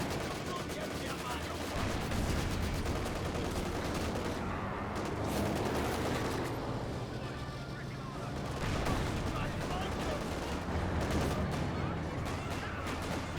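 Dense, continuous battle din from a Company of Heroes 2 match, with artillery and gunfire rumbling and crackling steadily throughout, loud and unbroken for the whole stretch.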